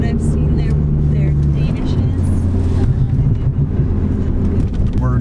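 A car cruises along the Autobahn from Germany into France, its engine and tyres making a steady, loud low drone throughout while people chat inside.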